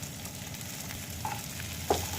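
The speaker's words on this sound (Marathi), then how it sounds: "याला पण थोडा वेळ परतून घेऊया।" Green peas sautéing in a pan for masala Maggi: a short, steady low sizzle with a couple of light spatula taps near the end, close and moderate, no voices.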